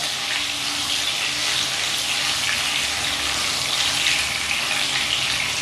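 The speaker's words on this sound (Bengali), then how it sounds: "সামান্য 1 চিমটি নুন দিয়ে লো ফ্লেমে আলুগুলো ভেজে নেব" Potatoes fry with a pinch of salt in a pan over a low flame, giving a continuous soft hiss and sizzle, steady and moderately close with no talking.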